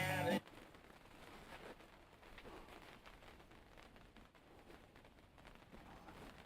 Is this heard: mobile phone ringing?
no